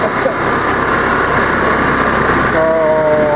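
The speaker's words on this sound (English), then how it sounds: "that's a beautiful two-stroke engine" A buggy's two-stroke engine runs steadily and loud, a continuous buzzing drone that holds throughout with no pauses, a rising whine joining near the end.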